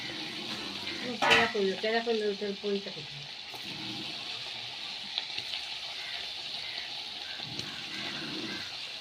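Tel pitha made from black bora rice fries in hot oil, giving a steady bubbling sizzle. Brief louder clatter and stirring come early, then the frying carries on alone at a moderate level.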